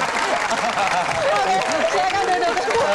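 Audience applause fills a crowded hall at an Indonesian quiz event, a steady dense wash of clapping mixed with crowd chatter and cheering throughout.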